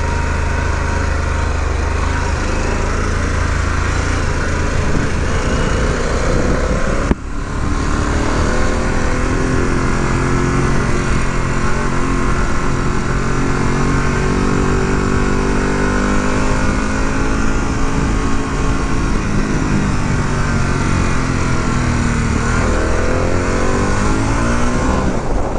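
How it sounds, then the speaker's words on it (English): A 2022 Harley-Davidson Pan America Special runs steadily and loudly up close, with a rough, rattling idle and slight shifts in pitch throughout. "The engine sounds like it's got a bag of marbles in it"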